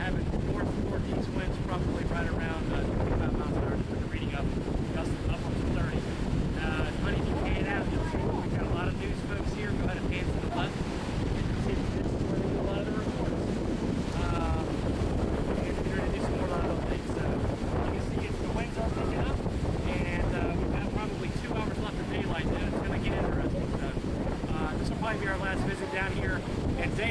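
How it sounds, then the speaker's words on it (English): Strong northeast wind of about 25 mph gusting to 30 during Hurricane Earl at South Nags Head buffets the microphone in a loud continuous roar for nearly half a minute, with surf in it and speech mixed in. "And the winds have definitely picked up."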